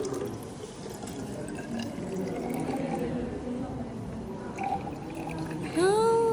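Water poured from a beaker into a 100 ml glass measuring cylinder during calibration, a steady soft pouring and trickling under quiet room noise, with a brief sharper clink near the end.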